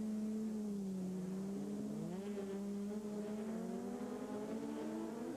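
Trophée Andros ice racing cars roar around a snowy left-hand corner at Alpe d'Huez, with engines heard from a distance and pitch sliding up and down as they lift off and accelerate.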